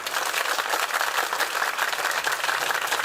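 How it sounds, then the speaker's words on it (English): An audience at a speech competition gives a guest a steady round of applause, a dense, even wash of many hands clapping throughout with no voices. "So there should be a great round of applause for him."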